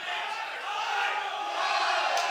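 A wrestling crowd at the George Hackenschmidt European Invitational Cup in Tallinn, Estonia, cheers and shouts before a match, a dense, steady roar of many voices that swells slightly toward the end.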